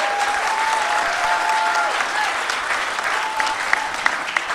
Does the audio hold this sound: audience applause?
yes